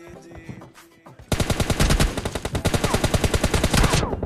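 Rapid automatic gunfire rattles in a 1v1 team-deathmatch fight in a mobile shooter game. A few quieter, scattered sounds come first, then a long, loud, unbroken burst of fast shots fills the rest.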